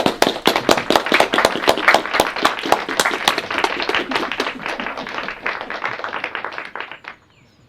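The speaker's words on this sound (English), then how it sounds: "A round of applause." Applause from a small indoor audience, many hands clapping in a quick, steady patter that runs for about seven seconds before stopping abruptly.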